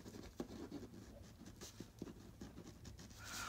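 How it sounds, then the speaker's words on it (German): A pen writes asemic script by hand on paper, a faint, continuous scratchy stroking with small taps, close and quiet with no talk. "Und ich schreibe jetzt hier mal auf, asemisches"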